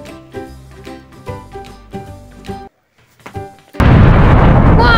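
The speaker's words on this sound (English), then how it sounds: "Wow, that was a big explosion." A big explosion from an exploding banana, bursting suddenly into a loud, sustained roar of noise after a stretch of music and a brief silence.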